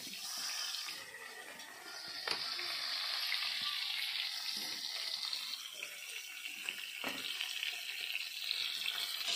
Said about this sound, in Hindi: तेल गर्म हो गया, अभी सब मछली डाल लेते हैं।